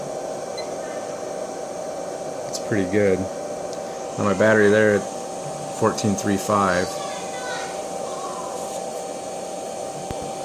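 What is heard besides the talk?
fan running in the background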